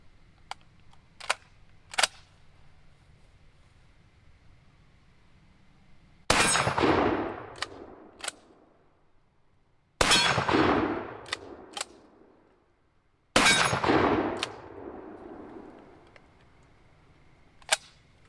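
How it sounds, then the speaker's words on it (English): A shotgun fires 3-inch slugs outdoors at night, with three loud, sharp blasts spaced a few seconds apart, each followed by a long decaying echo, alongside quieter mechanical clicks and clacks between shots. "we're actually going to start with the shotgun real fast. Shooting some 3-inch slugs."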